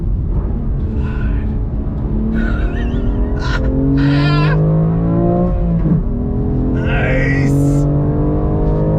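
A BMW M2 Competition or 2022 Toyota Supra sports car braking hard on a track, engine blipping through several quick rising downshifts with brief tire chirps, loud and close, as people talk over it.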